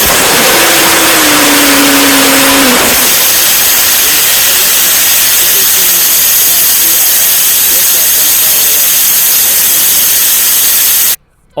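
Student-built rocket engine on a static test at the Purdue Airport, a steady loud roaring hiss that holds continuously for about eight seconds and then cuts off abruptly.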